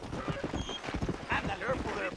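Donkey hooves clip-clop in a quick, uneven rhythm in the video game Red Dead Redemption, moderately close, with a voice talking over them.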